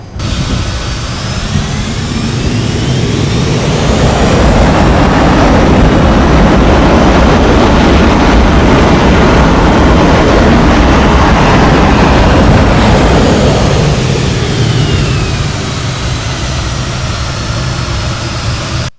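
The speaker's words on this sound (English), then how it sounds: "I will give you full throttle on the ground so you can hear how that sounds" Twin jet engines of a JustFlight Fokker F28 in Microsoft Flight Simulator spool up to full throttle on the ground, a loud sustained roar with whining turbine tones that swells, holds steady and then eases off, with no talk.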